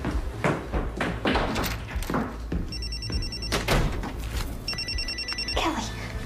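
A house phone rings in two bursts of electronic trilling in a dramatic indoor scene, heard among shuffling, thumps and background sounds.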